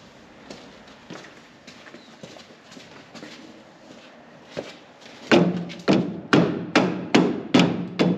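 A hammer taps a Ford 8-inch rear end carrier on a 1966 Mustang, with light, scattered knocks at first, then a run of seven loud, ringing metallic blows struck at a steady pace, close up.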